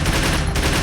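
Dense burst of gunfire from the tactical video game Troubleshooter: Abandoned Children, a loud, continuous rattle of overlapping shots filling the whole short moment without pause.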